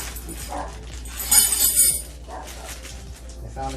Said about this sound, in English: Please excuse the dogs.